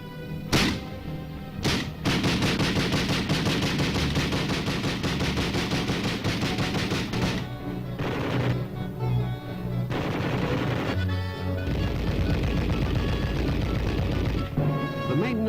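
Army weapons firing during Arctic and subarctic tests in Alaska, long bursts of rapid automatic gunfire with a few single heavy shots, loud and continuous with short pauses between volleys.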